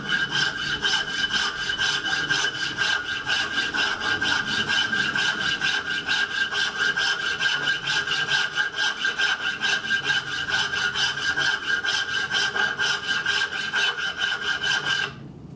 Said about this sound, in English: now I've done all that filing and I've used like the file this way, used it up and down, that way, this way